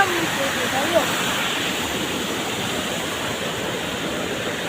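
The Shetrunji river flows with a steady, broadband rush of water that holds at an even level throughout, with no break or change in intensity.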